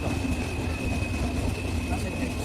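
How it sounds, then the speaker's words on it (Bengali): The nonstop Banalata Express intercity train runs through a station without stopping, giving a steady, loud, close rumbling roar that fills the whole moment without a break. "থ্রুপাস নিচ্ছে রাজশাহীর জমিদার খ্যাত উত্তরের আরেক জমিদার ননস্টপ বনলতা এক্সপ্রেস।"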